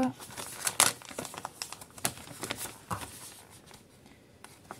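A paint-by-number kit's packaging is torn and opened with plastic crinkling and paper rustling: a busy run of close, uneven crackles and rips for almost five seconds.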